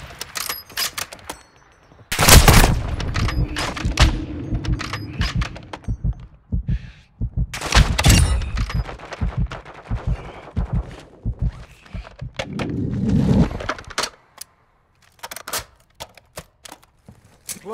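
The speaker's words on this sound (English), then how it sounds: "Taking fire over here!" Bursts of automatic gunfire in the shooter game Call of Duty DMZ, rapid rattling volleys in several clusters separated by brief pauses, loud and close, ending in near silence.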